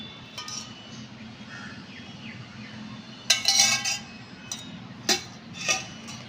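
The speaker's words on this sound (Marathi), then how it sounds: "मग 3 चमचे तूप घालायचं" A steel spoon clinks against a bowl while ghee is added to panchamrit, several bright metallic taps spaced irregularly over a quiet kitchen background.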